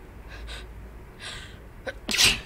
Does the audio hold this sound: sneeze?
yes